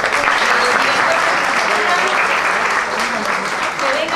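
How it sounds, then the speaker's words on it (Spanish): Audience applause at a chamber music concert, loud, dense clapping from a full room that holds steady for the whole four seconds, with voices mixed in beneath it. "yo voy a hacer un aplauso para Jorge para que él venga a hablar"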